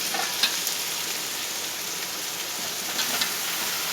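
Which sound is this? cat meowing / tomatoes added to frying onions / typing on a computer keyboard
tomatoes added to frying onions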